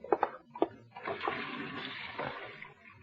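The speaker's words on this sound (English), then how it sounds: "Wait till I wash my hands." Water runs from a tap as someone washes their hands in a 1947 radio drama, a steady rushing splash after a few brief knocks, close and moderately loud, with no one talking.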